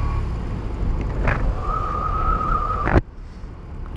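A BMW R18 motorcycle on its first ride along a road with large potholes, its engine giving a steady low rumble mixed with wind, a thin whistling tone joining midway before a sharp knock.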